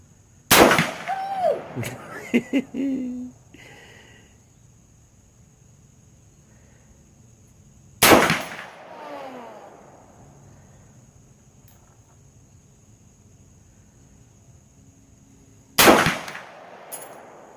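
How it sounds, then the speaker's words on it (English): Three loud, sharp gunshots, spaced about eight seconds apart, each with a short echoing tail outdoors. A voice speaks briefly near the start, between the first and second shots. "This is Logan shooting cancer in the face for CMAX."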